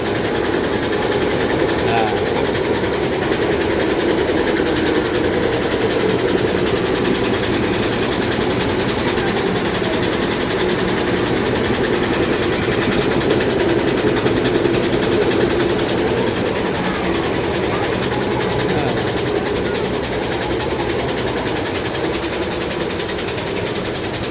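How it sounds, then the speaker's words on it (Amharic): A grain mill runs steadily in a mill house, a loud continuous mechanical drone with a rattling, clattering texture that holds without break throughout, with voices faintly present underneath. "እንግዲህ ወፍጮ ቤት ነው።"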